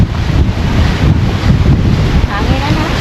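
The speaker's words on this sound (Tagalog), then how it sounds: "Lakas ng hangin." Strong wind at Casapsapan beach batters the microphone in a loud, continuous roar with gusting rumble, and waves wash faintly underneath.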